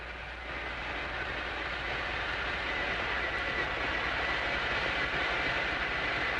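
An ARB boat running at 600 RPM off Fisher Island, captured underwater by hydrophone, makes a steady, broad rushing drone with a faint rhythmic low thrum that holds loud and unbroken throughout.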